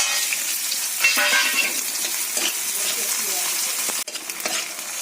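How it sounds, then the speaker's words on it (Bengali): Onions sizzle and crackle in a hot pan, close up, with a few stirring scrapes and a brief clink near the end. "পেঁয়াজটা ভাজা হয়ে গেছে"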